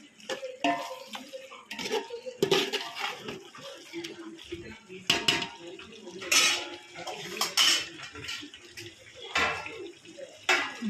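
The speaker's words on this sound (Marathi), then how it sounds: "हे छान असं मिक्स करून घेऊया." Clatter of a spoon working through masala with chopped coriander and mint in a metal pot for chicken biryani, irregular scraping and clinking bursts close by, with a voice talking in between.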